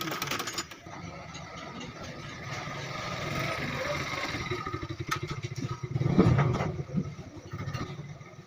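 Sewing machine running a test stitch after its thread gap is adjusted, a steady close mechanical whir with a rising, busier stretch near the end.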